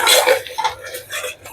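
Spoon scraping and clinking in a pan as tomato and spice masala with salt is stirred and fried for a village-style chana dal with arbi, several quick close strokes in a short burst with no talk.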